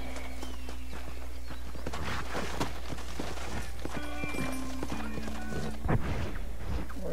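A horse in the Red Dead Redemption video game, in the town of Armadillo, clops along with rhythmic hoofbeats. A clear whinny rises midway and a harder hoof strike lands near the end, all loud and close.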